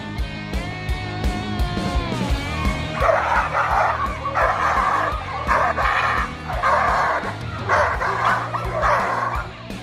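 A Dogo Argentino barks repeatedly and loudly up close, a rapid series of strained, yelping barks and whimpers as it is held back on a restraint, with a faint crowd murmur behind.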